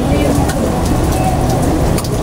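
Steady rainfall pours down in a constant hiss, close and fairly loud, with faint traffic or other noise underneath.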